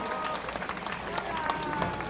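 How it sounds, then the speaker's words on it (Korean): A large gathering at an outdoor national prayer rally gives a dense, continuous round of applause, a steady crackling wash of clapping with crowd noise mixed in. "우리 큰 박수 드리겠습니다"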